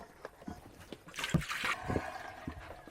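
Drain cleaner solution poured from an 8-litre Colapz collapsible bucket, a run of wet splashing and trickling that swells to a fuller gush in the middle before easing off, close by.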